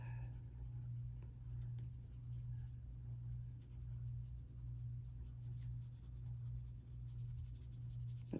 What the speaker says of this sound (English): we do want to kind of use this pencil to smoosh the colors that we have down together